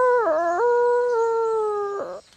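A performer on a stage imitates a wolf's howl in a Jungle Book play, giving one long sustained vocal howl with wavering pitch at the start and end, loud and close, with no speech.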